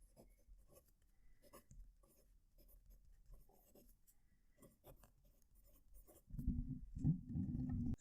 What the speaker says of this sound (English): I'm going to move the microphone close to the paper so you can hear it write.